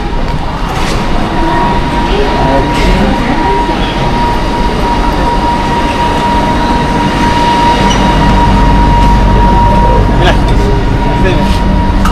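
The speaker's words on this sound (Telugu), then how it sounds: "మెట్రో అయితే వచ్చేసింది, చూద్దాం లోపలికి వెళ్ళి" A driverless metro train in Malaysia rumbles steadily as it arrives at a station platform, a sustained tonal hum over broad mechanical noise, growing slightly louder toward the end.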